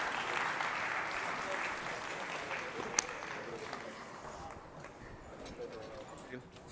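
A conference audience applauds as a keynote speaker is welcomed on stage, with dense clapping loudest at first and gradually thinning, plus a few scattered sharper claps.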